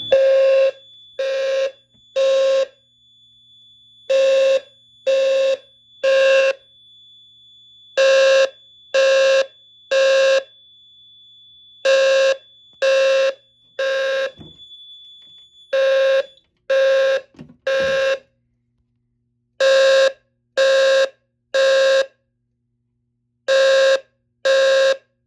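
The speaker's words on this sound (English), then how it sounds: "I'm going to go ahead and pull the Firelight BG10" Fire-Lite MS-4424B fire alarm system sounding after a BG10 pull station is pulled, loud repeating temporal-three horn blasts in groups of three with gaps, plus a faint steady tone under the first part.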